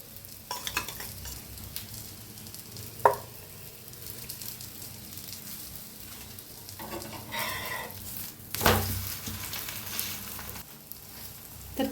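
Egg flatbread roasts in an oiled pan, a soft continuous sizzle close by, broken by occasional scrapes and taps of a utensil and a louder burst of frying near the end, no voices.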